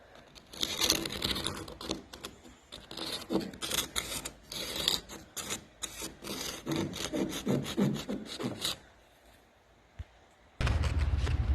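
Sandpaper scrapes clear coat off a wooden staircase in rapid, rough back-and-forth strokes, close and fairly loud, then goes quiet near the end before a short burst of noise.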